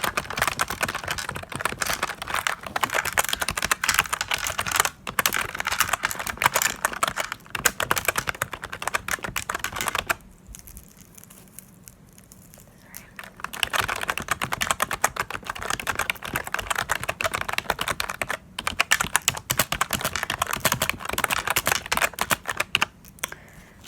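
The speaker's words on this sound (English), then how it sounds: "It's an old crusty dusty keyboard that used to be my hubby's." Rapid, continuous clatter of typing on an old, dusty computer keyboard, close and loud, with a short pause in the middle before the keystrokes resume.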